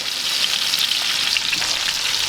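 Steaks sizzle steadily in a hot pan, a dense continuous frying hiss with small pops and crackles, close and loud with no talking.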